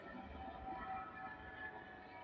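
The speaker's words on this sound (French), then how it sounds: "Hélicoptère de Purpan." Helicopter from Purpan passing overhead outside an abandoned concrete office building in Toulouse, a steady broadband rumble and whir that holds fairly constant throughout, with no talking.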